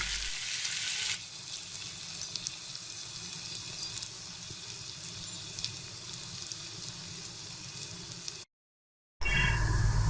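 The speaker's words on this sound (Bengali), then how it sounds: "এখন সুটকিগুলো কিছুক্ষণ এভাবে নাড়াচাড়া করে ভেজে নিতে হবে" Dried loitta (Bombay duck) fish fry with spices in a pan, giving a steady close sizzle with light stirring noises and a brief dropout near the end.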